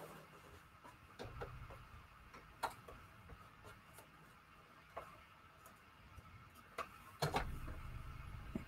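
A sewing machine stitches stripes onto a paper book page pocket in a zigzag stitch, with a faint motor whir and irregular mechanical clicks and taps. It grows louder and busier near the end, close by and without talk.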